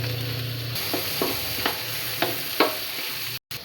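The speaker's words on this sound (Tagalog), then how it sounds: "lalagay na natin yung ating garlic" Ginger and garlic sizzle in a hot pan with chicken for a Filipino pochero. A steady frying hiss is broken by several distinct scraping stirs, and the sound cuts out briefly near the end.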